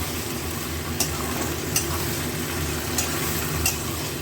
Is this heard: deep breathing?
no